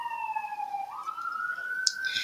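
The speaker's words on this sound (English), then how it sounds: "You see all these sirens behind me?" A wailing police siren sweeps slowly upward in pitch, fairly distant, with a brief higher electronic chirp near the end.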